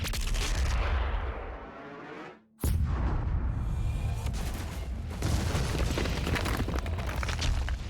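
In Doom Eternal, a large cannon fires after a countdown, with a heavy booming blast and rumbling aftermath that dip into a short silence near two and a half seconds before another loud burst and sustained rolling explosions.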